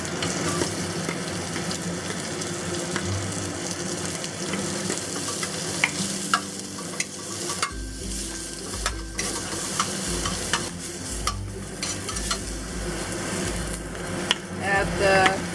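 Shallots fry in oil in a pan over medium-high heat, a steady dense sizzle with occasional stirring scrapes and clicks running throughout.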